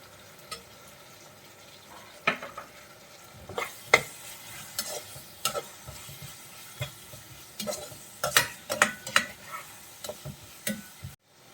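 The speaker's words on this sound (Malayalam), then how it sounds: "ഇനി അതിലേക്ക് നമ്മൾ അരിഞ്ഞു വെച്ചിട്ടുള്ള പച്ചമുളക് ചേർത്ത് കൊടുക്കാം." Chopped green chillies sautéing in a hot pan for chilli gobi, with a steady low sizzle broken by repeated sharp scrapes and knocks of a spoon stirring, close and fairly quiet, no voices.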